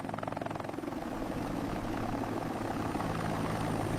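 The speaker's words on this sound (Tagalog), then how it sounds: "Sakay tayo sa bamboo helicopter!" A toy-like bamboo helicopter flies with a steady, continuous rotor whir and engine drone, loud and close throughout with a faint pulsing chop and no speech.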